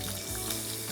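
Bacon slices frying in heated salad oil in a frying pan, a steady close broadband sizzle with a watery hiss that runs unbroken through the whole moment.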